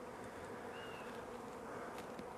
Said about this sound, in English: A lot of bees still are stuck or didn't come out yet.